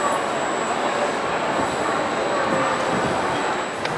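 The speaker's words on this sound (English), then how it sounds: "over here on platform 6 and platform 5, we got another pair of trains" Trains at the platforms of Florence railway station give a loud, continuous rumble with a thin, steady high whine, heard close and unbroken for the whole stretch.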